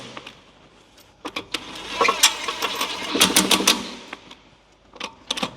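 A wrench on a Ferrari wheel makes bursts of rapid ratcheting clicks, broken by short pauses and rising and falling in loudness.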